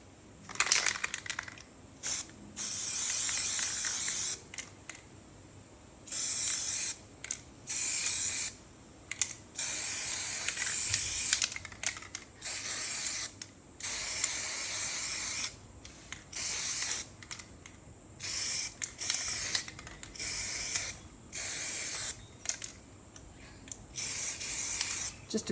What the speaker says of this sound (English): I'm just going to use some Liquitex Professional Spray Paint in the transparent mixing white just to lighten a few areas up a little bit